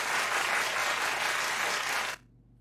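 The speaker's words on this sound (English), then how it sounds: "The clapping." Dense applause from an audience, a steady rain-like wash of many hands clapping for about two seconds, then cutting off abruptly into near silence.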